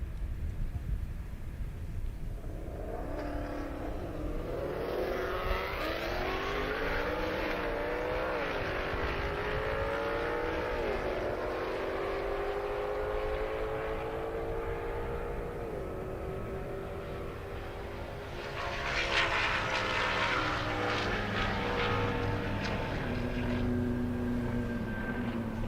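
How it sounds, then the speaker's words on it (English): A Dodge Hellcat and a Mustang GT500 race side by side on a half-mile airstrip drag course, their engines roaring and rising through gear changes before a louder pass near the end, heard at a distance with crowd noise and announcer speech. "We got Josh Gemmel in his Dodge Hellcat, and Clint Sweet in his Mustang GT500."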